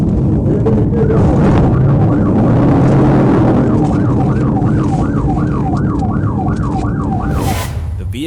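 A wailing siren rises and falls in steady repeating sweeps over loud road and engine noise, close and strong throughout.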